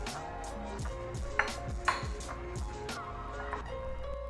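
Spoon clinking and scraping in a pan while chopped onion is stirred together with coriander, cumin and red chilli powder for an onion chilli paratha filling, with regular light knocks and a few sharper pings over steady kitchen background.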